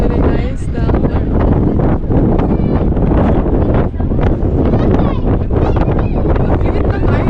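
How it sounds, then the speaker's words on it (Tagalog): Strong wind buffets the microphone on a small island, making loud, gusty rumbling and roaring that runs throughout, with voices talking faintly under it. "It's very windy."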